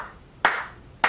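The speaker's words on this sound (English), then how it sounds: "So it does get an applause." Two single hand claps, about half a second apart, sharp and fairly close, with no voices between them.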